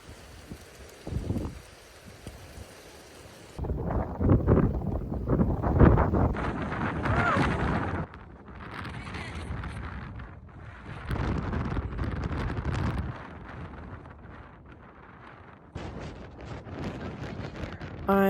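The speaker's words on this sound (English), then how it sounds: "I'm not sure why I was even trying to talk during this video because it was so windy" Heavy wind at the southernmost point of New Zealand's South Island buffets the microphone in rough, roaring gusts, with brief calmer stretches between blasts.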